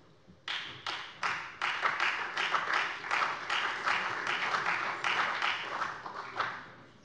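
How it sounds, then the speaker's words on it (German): Applause from members in the Hessian state parliament plenary chamber, many hands clapping in a steady, fairly soft burst that starts abruptly and continues for several seconds. "es ist sehr erfreulich, dass das Hohe Haus dazu klatscht"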